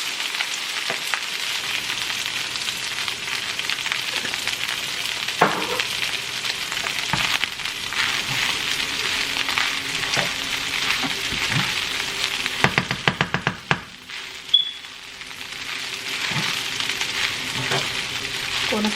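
Rice with teriyaki sauce fries in a pan, a loud steady sizzle like heavy rain that runs throughout, with a cluster of quick utensil scrapes and taps toward the end.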